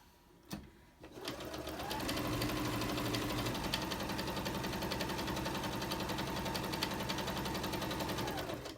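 A sewing machine stitching quilt blocks runs at a steady fast needle rhythm after a brief start-up knock, a close, even mechanical whir holding for several seconds with no talk.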